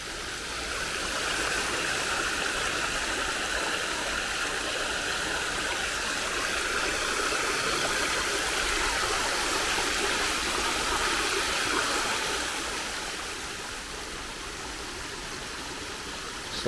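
Water flows steadily into a newly dug garden pond, a soft continuous splashing rush like a small stream or waterfall, close and even throughout with no talk.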